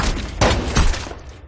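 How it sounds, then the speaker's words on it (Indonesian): Burst of gunfire in an action film shootout, with sharp loud shots around the middle of the moment, close and booming over a dense rumbling background. "Dia menembaki Sang Chul."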